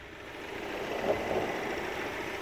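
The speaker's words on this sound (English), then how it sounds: "Nice responsive engine, plenty of power in it" A six-speed Euro 6 truck's engine idles steadily with a constant low hum, fairly quiet and alone, no talking.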